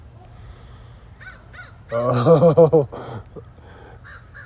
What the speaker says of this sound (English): there's probably like 50 crows over my housing area right now